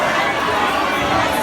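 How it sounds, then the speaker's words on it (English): A dense concert crowd roars and sings along together in Spanish in a continuous loud wash of voices, with no single voice standing out. "now everybody sing it in Spanish"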